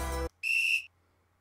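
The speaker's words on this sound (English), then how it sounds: "What's that whistle?" A whistle blows in the video game Mary Skelter 2, a short shrill blast ringing clearly for about half a second after a brief low tone, then silence.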